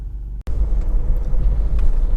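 Close, low rumbling idle of a Honda CR-V 2.2 i-DTEC diesel SR automatic 4x4, a steady engine drone that starts after a short cut and holds evenly to the end.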